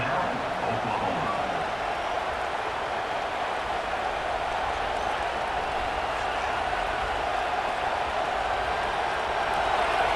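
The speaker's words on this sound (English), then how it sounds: "Decibels rising as the crowd gets behind this defense on 3rd down." A stadium crowd roars on 3rd down in an EA Sports College Football 26 game, a dense, steady wall of cheering that holds loud for ten seconds and swells slightly toward the end.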